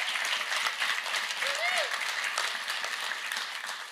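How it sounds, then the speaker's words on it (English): A crowd in New York City applauds steadily throughout, dense clapping filling the room with a few whoops rising above it. "Would you please give our congressional delegations a round of applause?"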